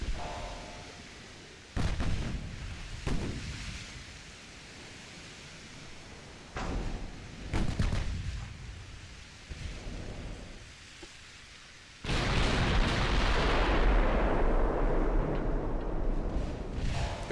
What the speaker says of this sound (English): get it ready to fire full salvos